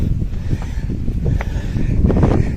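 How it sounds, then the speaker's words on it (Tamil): Strong wind buffets the microphone on a hilltop near a temple, a loud, continuous low rumble with gusty swells throughout. "காற்று சும்மா சூப்பராக அடிக்குதுங்க."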